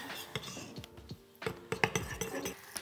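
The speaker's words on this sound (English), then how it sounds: "I'm gonna just stir this together" A spoon stirs tahini into a yogurt sauce in a bowl, giving a run of close, quiet clinks and scrapes against the dish at an uneven rhythm.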